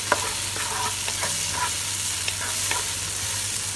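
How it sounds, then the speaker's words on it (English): Chopped tomatoes stirred into onion and garlic in a pan over high heat for a lamb bolognese, with a loud continuous sizzle and repeated scraping strokes of a spoon, and no talking. "we will add the finely chopped tomatoes into the onion and garlic and stir it well on high heat"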